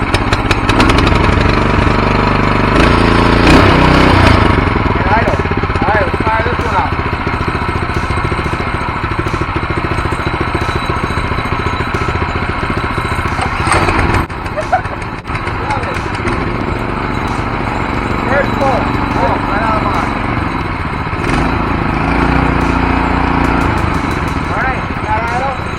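A 424cc inline twin-cylinder Harbor Freight engine running steadily nearby with a rough, uneven idle and mechanical clatter, people talking over it.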